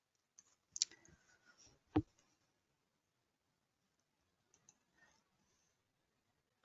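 Quiet computer mouse clicks while working in structural analysis software: a double click near the start and a sharper single click around two seconds, then a few faint clicks later, with no talk.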